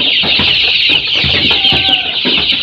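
A flock of Sonali chicken chicks sick with bloody dysentery peep and cluck together in a dense, continuous, high chatter, loud and close, with no voices over it.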